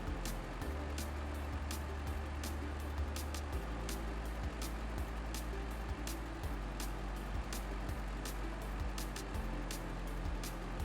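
A truck engine drones steadily in the off-road driving game SnowRunner as the vehicle follows a river on the Kola Peninsula, its low hum shifting pitch in stages, with sharp intermittent clicks and knocks throughout.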